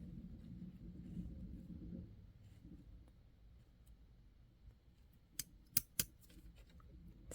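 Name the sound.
scissors snipping dry skin during nail care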